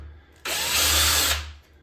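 A power drill fitted with a centering bit whirs for about a second, pre-drilling a screw hole for a door lock plate, loud and close with a quick spin-up and gradual wind-down.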